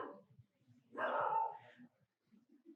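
A single dog bark sounds faintly in the middle of a room, with low murmuring voices before and after.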